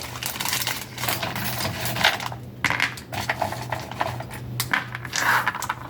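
Strategy dice tumbling and clattering on a hard surface in a tarot-style reading, a run of quick sharp clicks and rattles in several bursts, close and fairly loud, with a low steady hum underneath.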